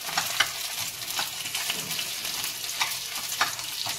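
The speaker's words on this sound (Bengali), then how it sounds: "মাছটাও ভাজা হচ্ছে" Pabda fish fries with black cumin in mustard oil, a close continuous sizzle and crackle with faint stirring clicks throughout.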